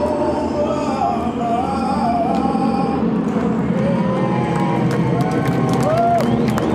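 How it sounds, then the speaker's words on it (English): Sellout crowd at a celebrity softball game at Pepperdine University in Malibu, a steady wash of cheering and chatter with occasional whistles and shouts rising toward the end. "a sellout crowd is supporting the second annual California Strong Celebrity Softball Game"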